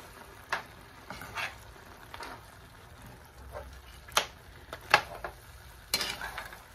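Jamaican curry goat cooks in a pot in its own juices with no water added, a soft low sizzle under sharp intermittent clinks and scrapes of stirring against the pot.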